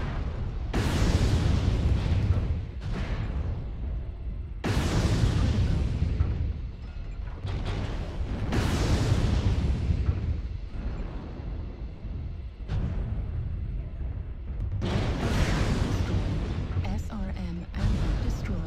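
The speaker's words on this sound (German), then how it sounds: "SRM ammo destroyed. Ammo explosion detected." Several heavy booming explosions in a BattleTech mech combat game, SRM ammo cooking off, each with a sharp onset and rumbling decay, repeating every few seconds.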